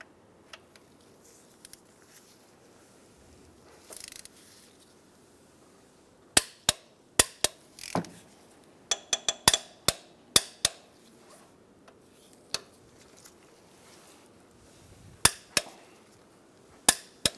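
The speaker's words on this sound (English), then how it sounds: "Now our 3 bracket bolts are going to be torqued down to 55 foot-pounds." A torque wrench clicks on the transmission mount bracket bolts of a 2007-2015 Mazda CX-9, sharp close metallic clicks coming singly and in quick bursts over a quiet background after a faint early clatter.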